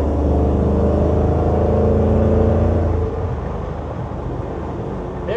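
A 1956 Chevrolet 210 two-door post car's engine revs and accelerates, a loud steady drone with rising harmonics that drops off to a rougher, lower rumble after about three seconds.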